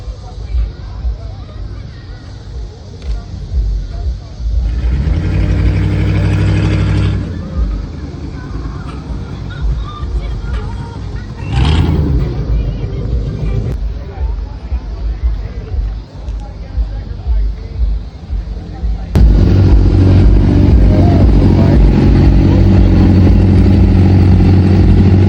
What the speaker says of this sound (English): I got the Hummer out here.